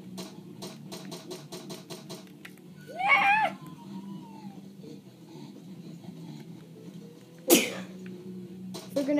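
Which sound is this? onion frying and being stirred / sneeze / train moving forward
sneeze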